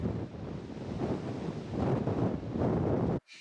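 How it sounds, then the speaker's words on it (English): Strong, steady wind gusts batter the microphone outdoors in Big Bend National Park, a loud continuous roaring rush that swells and ebbs for several seconds before cutting off abruptly near the end; no voices. "The next day was Wind Tunnel Day. It's a bit breezy."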